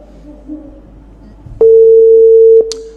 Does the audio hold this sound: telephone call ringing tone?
yes